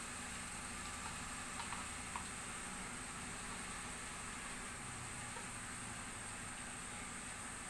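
A spoonful of oil heats in a kadai for dhaba-style garlic fenugreek, giving a faint, steady hiss with a couple of tiny ticks early on, low and continuous throughout.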